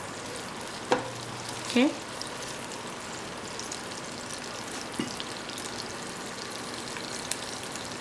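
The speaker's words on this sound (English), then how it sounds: "Once our ginger and garlic just fries up just a little bit, it's already going" Ginger and garlic fry in hot oil on high heat, giving a steady, soft sizzle throughout with a couple of brief utensil clatters and a short spoken word early on.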